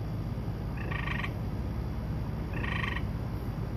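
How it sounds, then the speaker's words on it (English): A spring gray peeper frog gives two short, bright trilled calls about a second and a half apart, carried over a steady low background hum outdoors. "Gray peeper is what it is, a spring gray peeper"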